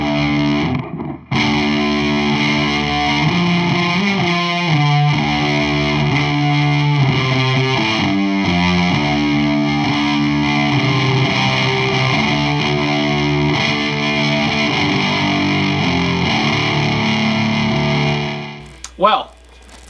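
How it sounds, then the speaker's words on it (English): Electric guitar through a Big Muff distortion pedal into a Randall Diavlo RD1H amp plays thick, fuzzy sustained chords and riffs, loud and close, ending in an abrupt cutoff and a short noise. "back to the big muff"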